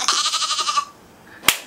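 A sheep bleating in an Albanian children's song, one long wavering bleat up close, then a near-quiet pause and a sharp thump at the end.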